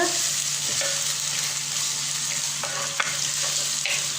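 Cinnamon, cloves and cardamom fry in sesame oil for a country chicken curry, producing a continuous close sizzle with occasional scraping stir sounds and a low steady hum beneath.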